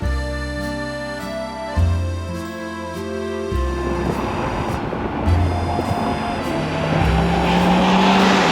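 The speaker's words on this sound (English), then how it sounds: "we're coming up to a series of ramps just here, and this is where the car just sings" A Citroen C5X driving over a series of road ramps, with a steady engine hum and tonal cabin drone, bumps and road rumble building into a louder, rougher wash toward the end, without voices.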